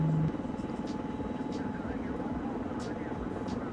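An Mi-24 helicopter in Arma 3 drones and thrums steadily at close range, with a constant rotor and engine roar and some faint talk underneath.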